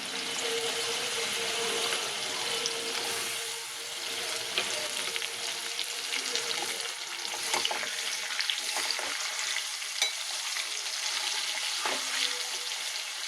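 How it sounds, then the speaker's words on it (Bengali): Potatoes and garlic fry with spice paste in hot oil, a steady close sizzle punctuated by repeated clicks and scrapes of a spatula being worked through the pan; no speech. "এবার এই যে মশলাটা মাখিয়ে রেখেছি, মশলাটা দিয়ে দেবো। মশলাটা দিয়ে কষাবো।"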